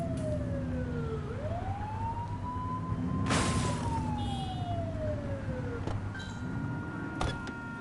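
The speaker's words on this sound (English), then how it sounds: "They won't know if you want to pull them over if you don't turn your siren on." A police siren in a video game wails in slow rising and falling sweeps, fairly faint, over a low engine hum, with a sharp noisy burst partway through.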